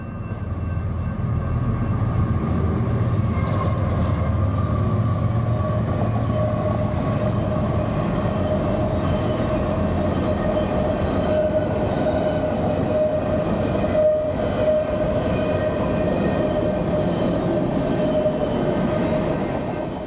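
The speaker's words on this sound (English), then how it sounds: "this will be a hint of what it's like when the train comes through." A train rumbles through a small lakeside village near a campground on Lake Pepin, its steady roar and rail clatter holding loud and even throughout with no voices over it.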